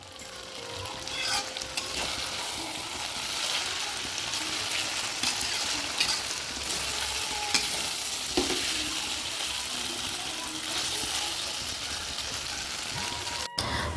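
Ivy gourd (kundru) sabzi sizzles in an uncovered pan with a dense, continuous crackle, while a spoon scrapes and stirs through it in irregular bursts; no voices.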